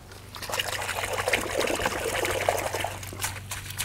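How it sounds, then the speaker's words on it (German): Water trickles and pours steadily while a bonsai's roots are rinsed, a close, continuous splashing flow over a low hum, with no talk. "ich spüle noch einmal kurz durch"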